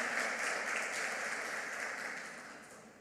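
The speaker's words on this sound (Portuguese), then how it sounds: "Dá uma salva de palmas a Deus em nome de Jesus" A church congregation gives a sustained round of applause during a sermon, dense and even, gradually fading toward the end.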